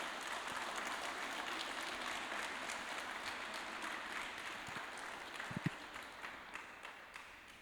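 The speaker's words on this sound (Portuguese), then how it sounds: "Vamos dar uma salva de palmas para Jesus" A church congregation at a Thursday evening service gives a round of applause, dense clapping at moderate distance that thins out toward the end, with a few sharper single claps standing out.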